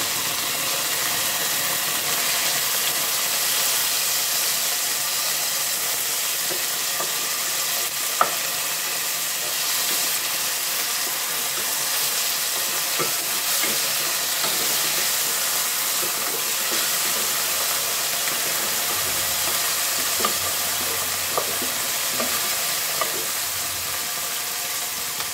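Garlic and tomato fry in a pan with a steady, continuous sizzle and hiss, close and even throughout, broken by occasional light clicks of a utensil, with no one speaking.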